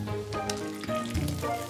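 Cured Chinese pork (larou) hits a hot pan to render its fat, giving a steady, close hissing sizzle that runs throughout beneath a sustained tonal layer of background music.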